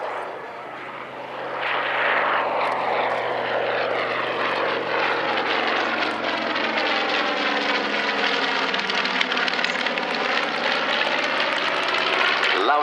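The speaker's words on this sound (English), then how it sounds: "Lovely sound of those twin right cyclones." A B-25 Mitchell bomber with twin Wright Cyclone radial engines roars in on a fast pass, its deep propeller drone swelling from a distant rumble to a loud, close, throbbing roar that stays strong to the end.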